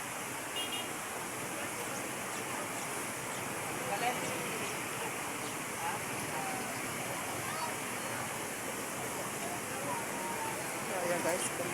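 Continuous heavy rainfall, a loud even rushing hiss like running water that holds steady for over ten seconds, with faint voices murmuring beneath it.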